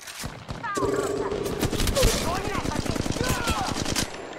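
Enemy gunfire in Apex Legends Mobile, a steady stream of rapid automatic shots close by, loud and continuous for several seconds with sharp individual cracks and a faint game voice underneath.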